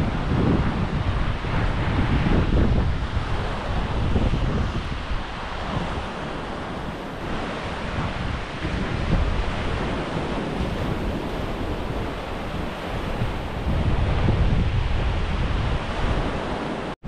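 Ocean waves wash steadily onto a seashore near the beach huts, with a continuous broadband roar of surf and wind buffeting the microphone throughout, swelling louder at the start and end.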